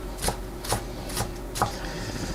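A knife chops vegetables in a home kitchen for a sweet potato shepherd's pie, making four crisp, quiet, unevenly spaced strikes against a cutting board.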